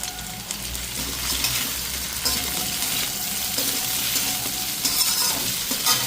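Prawns, potatoes and onion fry together with salt in one pan, giving a continuous close sizzle. A spatula scrapes and stirs through it, with a few light metallic clinks.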